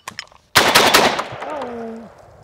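Shotgun shot at thrown clay targets on an outdoor range, a single loud close blast with a ringing decay, preceded by faint clicks and handling noises.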